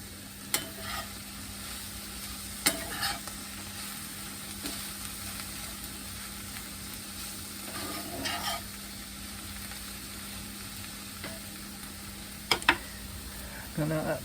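Cabbage stir-fries in a pan, a soft, continuous low sizzle with a faint steady hum beneath and occasional clicks and brief scraping bursts, fairly quiet overall.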